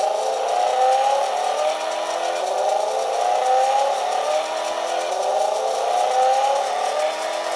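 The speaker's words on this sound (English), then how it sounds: "If you just keep on going forward, it will make these engine sounds." An RC monster truck drives steadily forward, its simulated engine sound playing a continuous loud whine that rises in repeated sweeps like gear shifts, with no talking.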